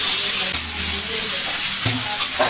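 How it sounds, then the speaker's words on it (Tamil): Gooseberries and garlic frying in hot oil in a pan, a steady close sizzle broken by scraping stirs, with a louder stir-and-sizzle burst near the end, no talking. "நெல்லிக்காய் போட்டு நல்லா கலவணும்"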